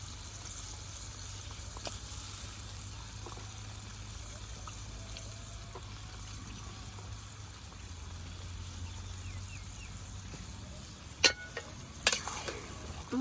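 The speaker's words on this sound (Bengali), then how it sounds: "মশলার নাগে মাংসটারে ভালোভাবে কষিয়ে নিই।" Meat frying with spices in a pot for a large home meal: a steady, soft broadband sizzle with a low hum beneath, and a few sharp clinks of stirring near the end.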